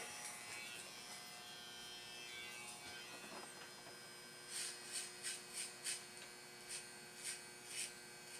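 Wahl hair clippers with no guard buzzing at a man's temples: a faint steady electric hum, then a run of rhythmic pulses as the blades pass through the hair.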